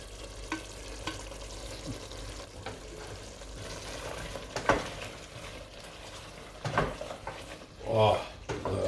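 Ground spices for lamb korma sizzle steadily in hot oil in a pan while being stirred, with occasional scrapes and clinks of the utensil against the pan and a voice talking in the background.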